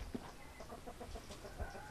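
A rooster clucks in a soft, rapid series of low calls, faint and somewhat distant against a noisy outdoor background, with no talk.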